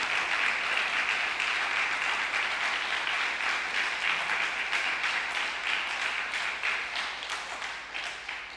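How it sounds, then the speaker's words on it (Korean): Church congregation at a Korean church in Rome clapping together during a Sunday afternoon service, sustained even applause from a crowd, moderately distant and gradually easing off toward the end. "한번 하나님께 영광의 박수 한번."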